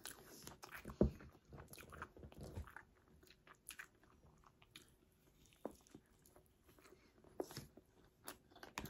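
Quiet, close chewing of spicy kimchi sushi, with a sharp bite early on followed by soft, irregular squishy mastication sounds and faint mouth noises, no talking.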